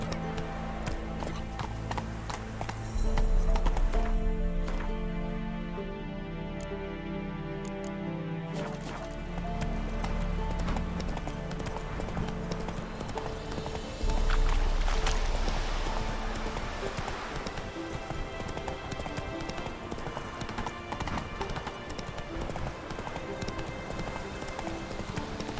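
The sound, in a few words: horse Roach galloping in The Witcher 3 video game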